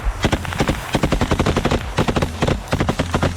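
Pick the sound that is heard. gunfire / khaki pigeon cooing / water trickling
gunfire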